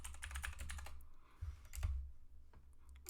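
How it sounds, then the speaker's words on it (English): Keystrokes on a computer keyboard while entering user account details during a Void Linux install, a quick run of close, crisp taps at first, then a few scattered clicks after a pause. "Not sure if I typed that right."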